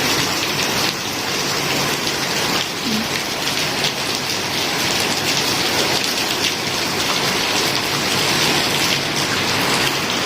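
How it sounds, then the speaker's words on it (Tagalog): Heavy rain pours down with wind, a loud, dense and unbroken roar that fills the whole stretch with no let-up and no one talking. "Lakas ng ulan guys, eh."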